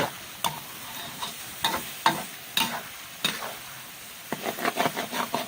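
Garlic frying with a sizzle in a pan, with sharp scraping clicks of a utensil stirring over medium heat, irregular strokes that quicken toward the end, close by with no talking.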